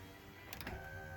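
A Jeep XJ power window motor runs briefly, a faint whirring hum with a small clunk near the end, heard alone.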